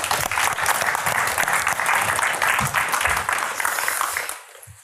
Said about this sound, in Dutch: Mag ik een warm applaus voor Nancy Jouwen.